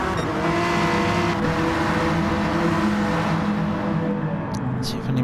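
Racing car engines in GT Sport during an online race at Dragon Trail Gardens, including a Honda NSX braking late, a steady loud engine drone with layered revving tones, nearly continuous throughout.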